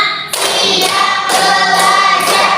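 Many students clap in unison, a loud, close burst of applause-like hand claps in a steady rhythm across the classroom.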